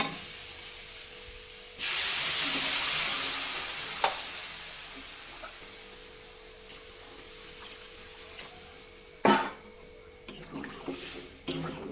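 Water poured into hot fried spices in a pan bursts into a loud, hissing sizzle that fades gradually over several seconds, followed by faint clinks and stirring near the end with no speech.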